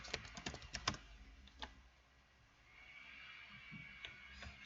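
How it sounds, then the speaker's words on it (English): Computer keyboard keys typing a password, a quick burst of close, crisp clicks at the start followed by a few sparse taps against a quiet background hiss. "And then you type in your password."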